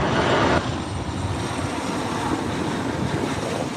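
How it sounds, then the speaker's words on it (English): A Southwest Boeing 737-800 airliner at LAX near runway 24R, with a steady broadband jet roar under gusty wind buffeting on the microphone, loudest in the first half second and then holding an even level. "737-800 Southwest."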